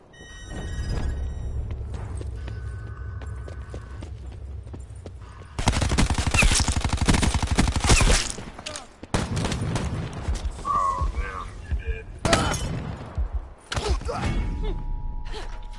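Bursts of automatic and single-shot gunfire ring out in a Call of Duty Blackout battle royale match, dense volleys broken by short pauses, loud and close throughout.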